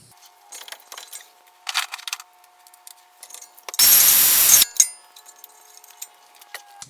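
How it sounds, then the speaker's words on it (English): Loosening a 12 mm bolt on a 2002 Acura MDX brake bracket: light metallic clinks and ratcheting, then a loud, continuous whir of just under a second that cuts off, with scattered small rattles after. "It's a 12 millimeter bolt on the other side, and just take that loose"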